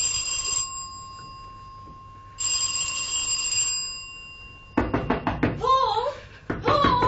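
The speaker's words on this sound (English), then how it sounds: "there was a ring on the doorbell." An electric bell rings in two long buzzing bursts, followed by sharp knocking and a voice speaking close by.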